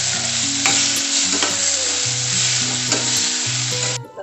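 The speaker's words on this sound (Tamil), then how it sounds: "அப்போதான் கொஞ்சம் சீக்கிரமாக தக்காளி வதங்கும்." Tomatoes sizzle and fry steadily in a pan with salt while okra tamarind curry is being made, a continuous close hiss with occasional stirring scrapes and clinks, no voices.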